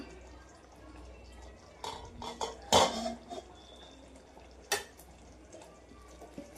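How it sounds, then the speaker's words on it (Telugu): Metal lid lifted off a pot of simmering Shahi Matar Paneer curry gravy: a few soft clinks lead to a sharp metallic clank, then a lighter clatter a couple of seconds later over a quiet kitchen background. "ఒకసారి మూత తీసి చూసుకుందాము."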